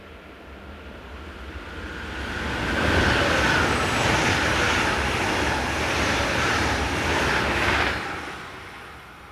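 A German class 403 train rolls past on the Würzburg to Gemünden line, a steady broad roar that swells over several seconds, holds loud and close, then begins to fade.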